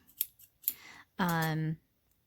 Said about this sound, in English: these scissors these need sharpening, so you'll have to excuse how they cut